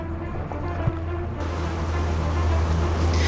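Offshore ocean swells and light wind during a sailboat race, a steady broad wash of water and air with a low rumble underneath, continuous and fairly loud throughout with no voices.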